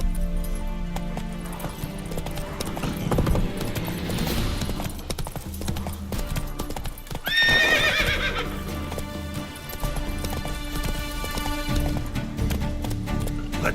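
Roach, Geralt's horse in The Witcher 3, gallops with steady clip-clop hoofbeats and lets out a loud whinny midway, over an in-game music and ambience bed.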